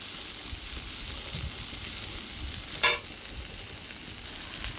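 Vegetables frying in a kadai give a faint, steady low sizzle, broken once midway by a short, sharper clatter of stirring.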